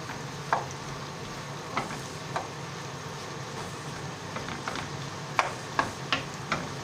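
Potatoes frying in oil in a pan for a Spanish omelette give a steady low sizzle, with a handful of sharp ticks and small stirring clatters scattered through it, close by and fairly quiet, with no one talking.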